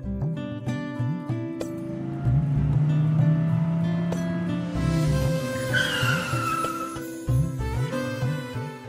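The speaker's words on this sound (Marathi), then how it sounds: "गाडीचा आवाज." A vehicle arrives amid a dramatic musical score, a rising engine or tire-like whine swelling in the middle and easing off, with no voices heard.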